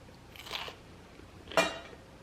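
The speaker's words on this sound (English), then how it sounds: "It has such a good crunch with the purple cabbage." A bite into a salad of purple cabbage dressed with salt, garlic powder and oregano gives one sharp, close crunch, preceded by a softer crisp rustle of chewing, with no talking.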